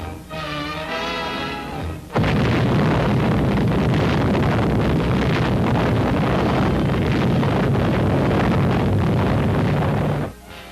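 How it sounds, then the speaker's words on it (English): An atomic bomb blast at Bikini Atoll during Operation Crossroads roars as a loud, dense, continuous rumble that starts abruptly and holds for about eight seconds before cutting off. "let's view the blast as filmed by another camera"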